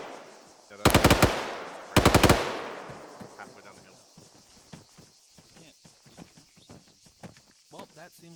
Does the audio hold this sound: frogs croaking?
no